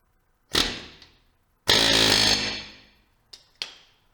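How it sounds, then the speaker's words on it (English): Pneumatic air impact gun working a nut on a Roxor front axle during an RCV axle install, loud close bursts of hammering: one short burst, a longer rattling run, then two quick blips. "I got an air gun and they got a little hole up here. Let's try it."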